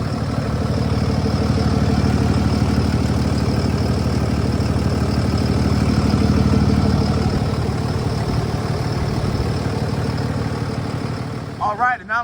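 A 2017 International DuraStar 4300 box truck engine idles with a steady, low diesel rumble that holds even throughout before cutting off abruptly at the end.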